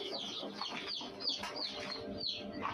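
Chicks and hens cheep and cluck around an egg incubator holding native country-chicken eggs, soft overlapping peeps recurring at a modest distance with no talk.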